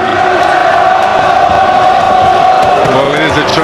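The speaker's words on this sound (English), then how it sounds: "Crowd singing, all of them in the background" A Welsh boxing arena crowd sings together in the background before a title fight, a loud, sustained swell of many voices with steady harmonic drone that lifts slightly near the end.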